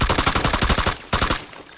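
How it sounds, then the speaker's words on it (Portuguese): Rapid automatic gunfire in the PUBG battle royale game on Xbox One X, two loud bursts of closely spaced shots with a short gap between them and no talking. "Dá uns tiros à toa só pra ver se eu ouço ele."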